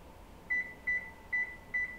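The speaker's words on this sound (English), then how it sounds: "now I'm going to set the timer for 4 minutes" A home popcorn popper used for roasting coffee beans gives four short, clear electronic beeps at an even pace as its timer is set, heard up close over a faint room hum.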